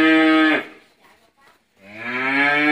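Cattle at a farm in Càng Long, Trà Vinh, Vietnam, large beef cows, lowing in two long, loud, close moos separated by a short quiet gap.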